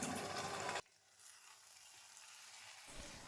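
Fried okra sizzling in a pan with turmeric and salt, a dense close frying hiss that suddenly drops to a faint simmer, then swells again near the end.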